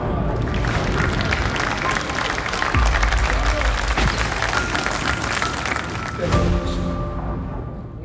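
Loud, sustained applause and clapping from a crowd of lawmakers in the National Assembly during a presidential budget address, steady throughout with a brief surge near the end.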